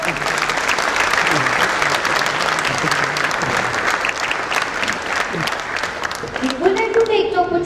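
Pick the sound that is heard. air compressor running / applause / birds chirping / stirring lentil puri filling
applause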